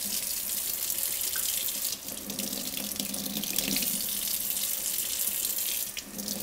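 Tap water runs steadily through an OPURA filter and splashes over a hand, a loud, close, continuous rushing with brief dips in flow and no talking.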